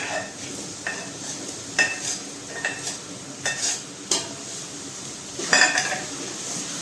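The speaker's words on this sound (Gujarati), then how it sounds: "અહીંયા વટાણા લીધા છે એ પણ નાખી દઈશું આપણે" Peas tipped into a pot of pav bhaji and stirred with a spoon, several sharp scrapes and clinks against the metal pot over a soft steady sizzle, close and fairly loud.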